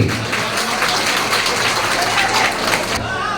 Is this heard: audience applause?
yes